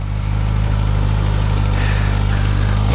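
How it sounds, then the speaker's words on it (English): A 2022 Suzuki GSX-S 1000GT motorcycle's engine runs steadily at idle, a loud, close, even low throb held throughout the short stretch with no voices. "Literally sounds like a GSXR 1000,"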